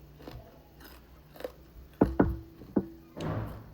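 Crispy food is bitten with a few loud, sharp crunches close to the mouth, followed by softer chewing.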